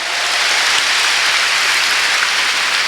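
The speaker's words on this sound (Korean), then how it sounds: "박수치며 하나님께 영광을 돌리고" A church congregation at a Sunday worship service claps together in a dense, steady wash of applause that holds at full strength throughout, with no voices heard over it.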